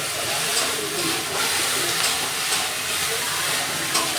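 Panch phoron spices with dried red chillies sizzling in hot oil for dal, a steady close hiss and crackle with faint scattered pops throughout.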